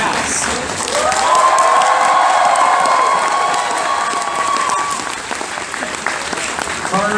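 Audience applause with cheering and shouts swells loudly from a convention panel crowd at an anime convention, a sustained wash of clapping and whoops that holds for several seconds before easing off, with voices mixed in.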